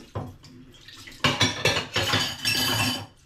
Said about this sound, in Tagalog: hugasan natin yung ating pinaggamitan